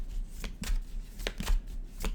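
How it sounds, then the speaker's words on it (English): A deck of tarot cards is shuffled by hand in quick riffles and slaps, with about five distinct bursts of crisp card noise at an uneven rhythm, close and fairly loud, and no voices. "One more shuffle."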